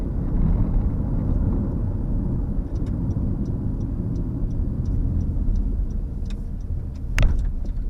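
A 2018 Honda CR-V with a CVT pulls away from a junction: a low, even engine and road rumble fills the cabin, with faint regular ticking over it and a brief sharp click near the end.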